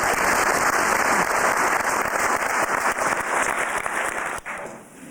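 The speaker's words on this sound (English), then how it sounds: "I think we need to give them a round of applause" Graduation audience applause for the graduates fills the hall, a steady patter of many hands clapping that holds strong, then thins and drops away near the end.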